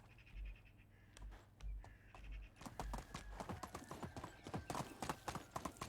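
Horse hooves clip-clop in the Medieval Dynasty video game, starting sparse and then quickening into a steady trot of many close hoofbeats, with a low hum and faint bird calls in the background.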